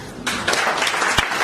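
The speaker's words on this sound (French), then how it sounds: "nous pouvons et nous devons vous applaudir." Applause at an installation ceremony for a journalists' union in Côte d'Ivoire, clapping bursting in abruptly after a brief hush and continuing loud and close with a few sharper claps.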